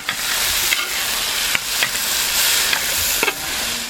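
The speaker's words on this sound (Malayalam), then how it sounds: "ശരിക്കും ഇതിൻ്റെ കളറൊക്കെ ഒന്ന് മാറുന്നവരെ ഇളക്കി കൊടുക്കണം" Chilies and ginger paste fry in a pan for a Kuttanadan duck roast, a steady close hiss broken by a few sharp scraping stirs of a spoon against the pan.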